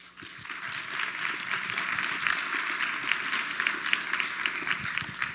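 Audience applause at a marketing conference, a dense, steady wash of many hands clapping at close range, sustained and fairly loud throughout with no talking over it.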